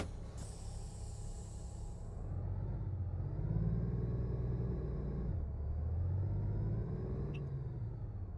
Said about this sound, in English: I can actually adjust it now so I can hear the bloody truck as well.